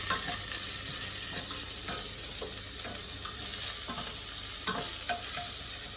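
Onion sautéing in olive oil in a pan, a steady bright sizzle under intermittent spatula scrapes and stirring taps, close and alone.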